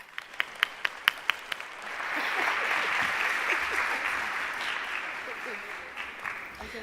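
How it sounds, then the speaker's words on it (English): An audience at a leadership breakfast event applauds speakers after a fireside chat: a few loud, distinct claps open, then a full room of applause swells and holds steadily before easing slightly. "Let's give these amazing ladies another round of applause."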